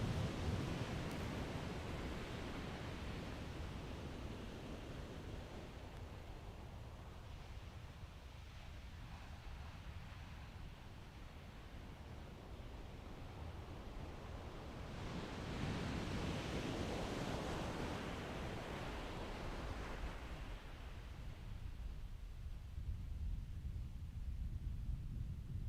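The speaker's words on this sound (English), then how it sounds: "Waves running away fast." Ocean surf rolling in at a surf and stand-up paddle championship on Little Andaman, a steady broad wash of breaking waves and wind that swells louder midway, with no talk.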